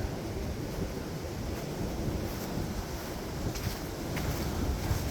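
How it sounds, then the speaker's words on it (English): Strong wind buffets the microphone outdoors at a log home in a continuous low roar, gusting slightly louder toward the end, with no voices. "Ooh, that's windy."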